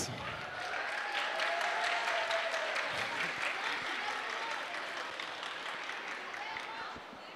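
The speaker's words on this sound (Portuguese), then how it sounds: "Uma salva de palmas" Sustained crowd applause after a catwalk fashion show performance titled Inteligência Artificial, a broad steady roar of clapping that swells early and then slowly tapers, with faint crowd voices beneath.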